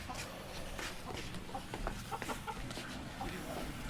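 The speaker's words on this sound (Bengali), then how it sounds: "মুরগি মোরগ। ওখানে ডিমও আছে।" Hens and a rooster cluck in short scattered bursts at a rural homestead in Khulna, moderately close over a steady outdoor background hum, with no talking.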